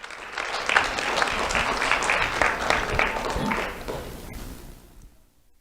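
A school awards ceremony crowd applauds two honored students with dense, sustained clapping that holds steady for several seconds before fading out toward the end.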